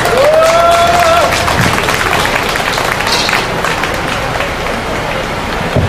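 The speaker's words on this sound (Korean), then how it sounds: "힘찬 박수 부탁드리겠습니다" Audience at a memorial gathering after a film screening gives enthusiastic applause, a sustained loud clatter of clapping lasting the whole stretch with a brief whistle-like tone near the start.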